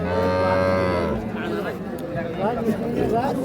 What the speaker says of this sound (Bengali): এখানে একটা শাহিওয়াল ষাঁড় বাচ্চা দেখছি